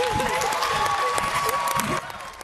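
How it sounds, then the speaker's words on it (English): Crowd cheering and applauding for the Scripps National Spelling Bee winner, broad noisy clapping and cheers with a voice talking over the top, dropping quieter at the end. "I love this cheering and jubilation."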